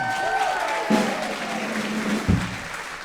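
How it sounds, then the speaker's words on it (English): Audience applause for a singer at a 1930s big band jazz concert at an outdoor arts festival, a steady wash of clapping throughout with brief spoken voices and a thump near the end. "stand up again, Tim, if people would like to applaud your singing"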